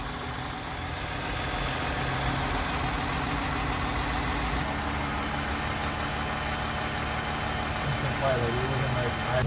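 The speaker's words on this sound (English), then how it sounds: "I want you to hear what the motor sounds like before." A 2008 Toyota Highlander engine idling steadily before an oil flush, a continuous even rumble heard close, with a person talking over it.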